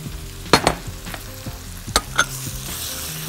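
Liver seasoned with salt and black pepper fries in hot oil with garlic in a wok, a steady close sizzle broken by a few sharp clattering stirs.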